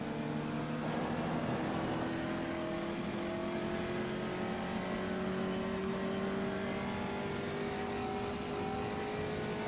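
A Puma GTE race car in the Automobilista racing game accelerates, its engine a steady, sustained drone with rising tones climbing through the gears, loud and continuous throughout.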